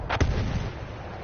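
Artillery fire in the Battlefield 1 video game, a single sharp booming blast near the start followed by a rumbling tail, loud and close.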